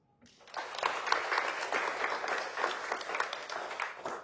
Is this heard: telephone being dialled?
no